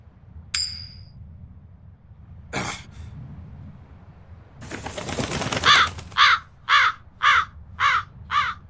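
A crow in the video game Tales of Berseria caws in a quick run of five or six harsh, evenly spaced calls near at hand, after a few scattered game sound effects, with no talking.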